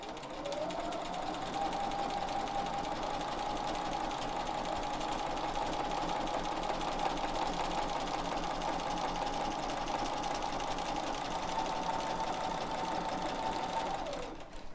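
A sewing machine quilts stitches along the edge of a quilt-as-you-go block, running in one continuous steady whir close by for nearly the whole stretch, with no talk.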